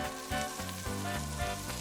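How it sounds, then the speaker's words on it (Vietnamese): Japanese scallops searing in hot oil in a pan give a steady, dense sizzle with crackling pops throughout, close and continuous, no voices. "Sau khi dầu nóng chúng ta bỏ sò điệp vào, áp chảo vàng hai mặt."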